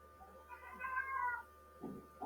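A single drawn-out cat meow, fairly close and faint, rising and falling over about a second in a quiet room.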